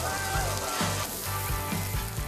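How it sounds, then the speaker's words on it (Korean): Korean hanwoo beef sizzling on a restaurant grill, a loud, continuous crackling hiss with soft pops and bumps beneath it, heard close and alone. "이 지글지글 소리는 언제 들어도 참 좋은 것 같네요"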